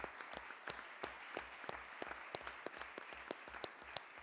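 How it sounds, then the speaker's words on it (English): Audience at a Springfield school committee meeting applauding, a sustained crowd clap with a few loud, close individual hand claps punching through in an uneven rhythm. "I would like to give them one final round of applause for everything that they do every single day"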